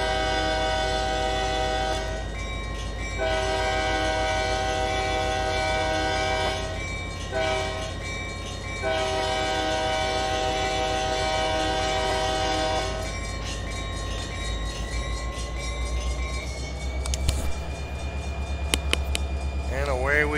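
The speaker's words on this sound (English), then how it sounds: "Got kind of a long train behind me. Not real long, but not about, well, I guess 10 cars anyhow." A locomotive hauling a train of about ten cars on the Arvin Branch sounds its horn in long, loud sustained blasts with short breaks over steady engine rumble, ending with lighter rattling.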